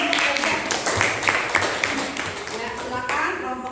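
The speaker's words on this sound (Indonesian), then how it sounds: "Iya, tepuk tangan dulu untuk Aisha." Students in a classroom clap for a classmate named Aisha, with scattered hand claps mixed under ongoing talk.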